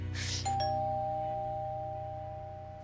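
A doorbell chimes once inside a home, a bright two-tone ding-dong ringing out clearly and fading slowly over a low steady hum, with no one speaking.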